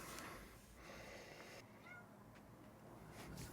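A house cat meows faintly indoors, a few soft cries heard over low room noise.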